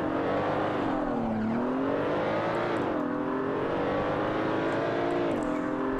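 A BMW Z4 in the Assetto Corsa racing game revs up and down in repeated rising and falling sweeps while lapping the Nurburgring, a continuous engine note with no talk over it.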